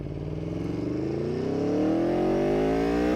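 A 2018 Aprilia Tuono V4 motorcycle engine revs up loudly and close, its pitch climbing steadily as it accelerates, with no talk over it.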